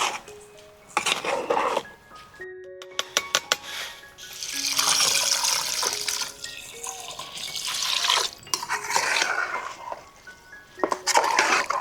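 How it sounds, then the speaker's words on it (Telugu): Water is poured into a pot of soaked rice, five and a half glasses, for raw jackfruit biryani. Splashing comes in uneven bursts over about twelve seconds, mixed with other kitchen noises. "5 గ్లాసులన్నర నీళ్ళు పోస్తాను."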